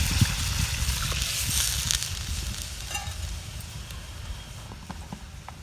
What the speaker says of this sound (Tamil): கலநீர் ஊற்றிக்கிறேன்.